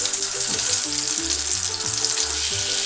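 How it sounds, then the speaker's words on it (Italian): Floured chicken cutlets frying in butter in a pan, a steady dense sizzle heard up close, with faint bubbling throughout and no voices. "Il burro mi sembra ormai pronto, andiamo ad aggiungerli all'interno della padella"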